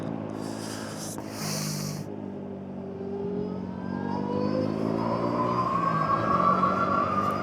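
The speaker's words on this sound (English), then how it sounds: "So I'm in eco mode. I'm about half throttle with that. I'm not even half throttle." A motorbike ridden in eco mode at under half throttle, its engine droning steadily with a rising whine as speed builds, heard from the rider's position with a couple of brief wind or handling bursts early on.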